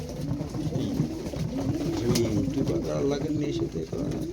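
Pigeons coo in a dense, overlapping chorus inside a pigeon farm, with the throaty calls close and continuous throughout and faint voices in the background.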